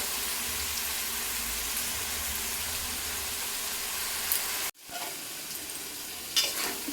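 Taro and spices stir-fried in a pan for a rohu fish curry, a constant close hiss of frying that breaks off abruptly midway, then resumes with a few scraping stirs.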